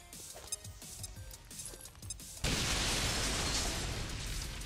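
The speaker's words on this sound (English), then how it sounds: "All right, this is kind of a big explosion." A grenade blast in XCOM 2 erupts suddenly after a stretch of quieter game sounds and faint clinks, then roars into a sustained, loud, broadband rumble of debris and fire that fills the rest of the moment.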